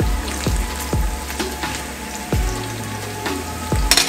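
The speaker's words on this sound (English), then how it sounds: "Like to start with my onion so it can kind of flavor the oil" Onion frying in hot oil, with a steady loud sizzle and periodic low thumps as the pan is stirred, and no talking.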